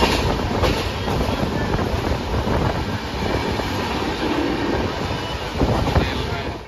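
Kamrup Express rolling into Dhulian station, a continuous loud rumble of wheels and carriages with clattering rail joints and faint squeals throughout, close by and without speech.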